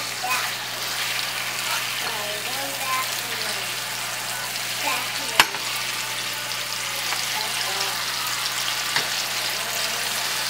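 Three strips of bacon frying in a pan give a steady, dense sizzle and crackle throughout, with a brief clink from the pan or spatula and muffled voices talking faintly underneath.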